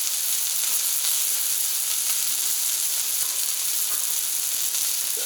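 Onion smash burgers sizzle on a Camp Chef FTG600 flat top griddle outdoors in extreme cold, a loud, constant hissing fry with small crackles throughout.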